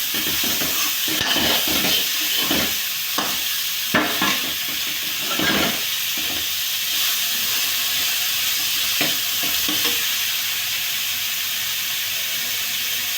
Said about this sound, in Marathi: आता त्यात आपण हे टाकून घेऊ, थोडे थोडे घेऊन हलवायचं, मिक्स करायचं